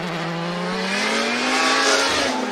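Konosuke Fujimoto's D-Dash Racing S15 drift car during Formula Drift Japan qualifying at Ebisu, its engine screaming in a sustained high rev with rising pitch and tire squeal, loud and continuous with no talk.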